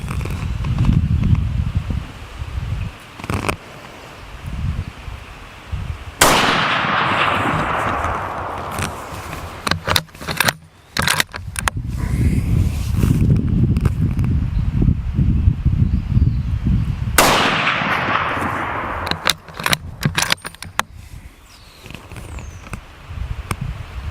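Two sharp rifle reports from a Winchester Model 70 in .270 firing Barnes bullets at an outdoor range, spaced about eleven seconds apart, each with a short rolling echo over steady wind and rustling.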